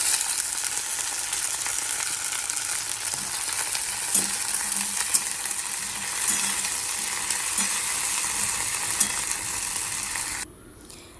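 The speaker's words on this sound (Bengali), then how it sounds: "পেঁয়াজ আর লঙ্কা ভাজা হয়ে গেছে এখন আমি ভেন্ডিগুলো সব দিয়ে দিচ্ছি" Continuous loud sizzling of okra frying in a pan with onions and chillies, a few soft stirring clicks, cutting off abruptly near the end.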